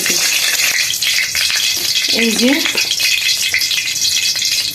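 Fish pieces frying in hot oil in a kadai on an electric stove: a loud, steady, close crackling sizzle throughout, with a short spoken phrase partway through.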